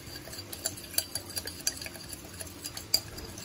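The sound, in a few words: mixing prawns with lemon juice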